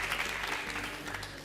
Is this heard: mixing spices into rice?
no